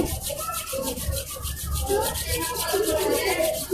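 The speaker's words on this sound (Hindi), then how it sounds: "दोनों हाथों को आपस में रब करें" Two hands rub briskly together during a yoga session. The close, continuous dry friction hiss holds steady with a faint rhythmic pulsing.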